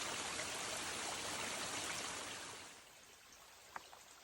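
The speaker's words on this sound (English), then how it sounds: "That's the trail where the running water is." A steep mountain stream along the Appalachian Trail rushes steadily close by, its broad hiss fading noticeably in the last seconds, with a faint small knock near the end.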